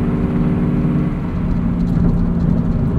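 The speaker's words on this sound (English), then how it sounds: "On the highway, this exhaust just sounds fantastic." Exhaust of a 2003 Ford Mustang Mach 1 cruising on the highway, a steady droning hum with a low engine tone and road noise, loud and continuous.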